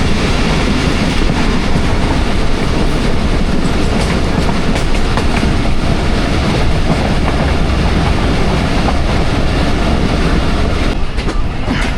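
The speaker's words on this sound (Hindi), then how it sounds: "4:50 गुजरात रेलवे स्टेशन पे अप्रोच बना रही है 14 टाउन अवाम एक्सप्रेस" The Awam Express train rolls loud and close on its approach to Gujrat railway station, a continuous dense rumble of wheels and carriages with steady clattering and faint squeal, no voices.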